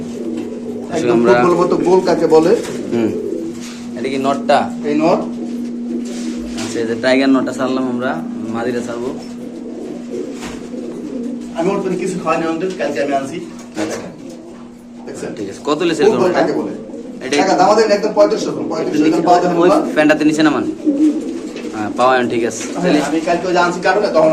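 Pigeons coo repeatedly at a pigeon market, steady low cooing running underneath loud, continuous conversation between people nearby.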